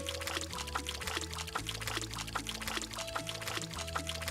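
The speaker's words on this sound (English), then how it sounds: "Alright, let's leave that to just pour out." Methanol drains out of a car during a repair in a car-repair video game, making a continuous liquid pouring sound with a steady gurgle that stays fairly quiet throughout, set against a low tonal background.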